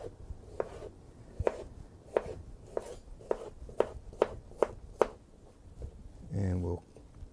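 A knife cuts through a pear on a cutting board in a steady series of crisp thunks, about a dozen evenly spaced chops, close and fairly quiet, ending with a brief scraping slide.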